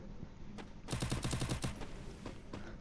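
A quick burst of about eight gunshots in Garena Free Fire rings out in a rapid, evenly spaced volley, loud and close, with a few fainter shots before and after.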